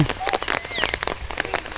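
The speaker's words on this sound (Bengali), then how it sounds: "বৃষ্টি মনে আবার নামতেছে" Rain beginning to fall again in a village in the late afternoon, a brief patter of drops striking surfaces nearby with soft irregular taps, close and moderately loud.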